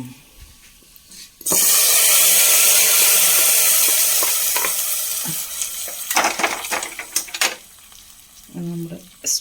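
Tempering of dried chillies and curry leaves is poured into a special buttermilk (moru) curry and bursts into a loud, sustained sizzle that slowly fades, followed by a few clinks of a pan and utensil and brief stirring.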